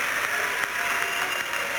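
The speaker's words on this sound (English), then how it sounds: "the applause" Crowd applause in a gymnastics arena after a routine at the 1990 Commonwealth Games, a steady dense wash of clapping filling the whole moment without pause.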